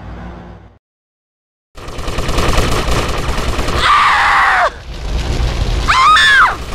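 Gunfire in the video game GTA Vice City Stories: loud, dense bursts of rapid shots after a short silence, mixed with explosive booms and rising whistling game effects.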